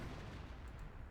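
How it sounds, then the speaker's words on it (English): A howitzer barrage in Company of Heroes sets off a dense, continuous rumble of artillery blasts, heard faint and distant without any break and with no speech. "Howitzer Barrage trying to hit that Panzer IV"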